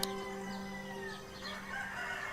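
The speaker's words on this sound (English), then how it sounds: "There's a lot of freaking chickens going on." A rooster crows over a busy chorus of clucking chickens, with steady tonal game-style background music running underneath, in the video game Werewolf: The Apocalypse – Heart of the Forest.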